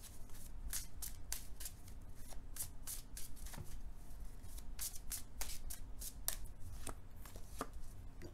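Tarot cards shuffled by hand at close range, a soft, continuous riffle and rustle with quick repeated flicks, fairly quiet.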